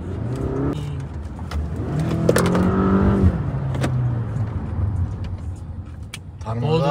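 Engine of a Toyota Camry 55 (XV50) holding revs in manual shift mode, a steady droning hum with rising and falling pitch as it pulls, under continuous talk inside the car.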